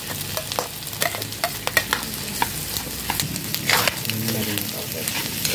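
Onions sautéing in a pan with garlic for a pork and vegetable stir-fry, loud close sizzling broken by repeated clanks and scrapes of stirring, with a voice briefly underneath.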